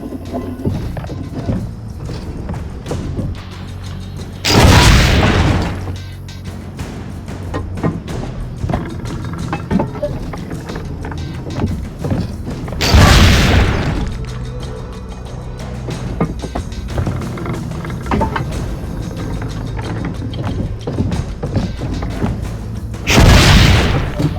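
Cannon fire in Assassin's Creed Brotherhood on PS3, three loud booming blasts spaced roughly eight seconds apart over a busy background of game ambience with hoof clops and footsteps.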